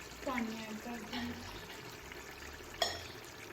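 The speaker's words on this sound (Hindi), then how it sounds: "अब हम इसमें पानी ऐड कर देंगे।" Water being poured into a pot of cooking chicken pulao, a brief splashing pour near the start with a faint trickle, then a sharp clink, under a noisy kitchen background.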